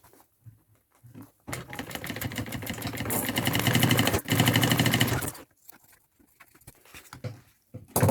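Sewing machine stitching a straight seam along the bottom of a double-compartment thermal backpack, a steady loud mechanical whir running for about four seconds with a brief pause, framed by quiet handling noises before and after.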